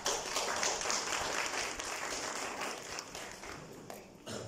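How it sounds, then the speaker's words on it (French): Workshop attendees give a round of applause, a fairly quiet but continuous spread of clapping that tapers slightly before a last burst. "et lui donner un applaudissement."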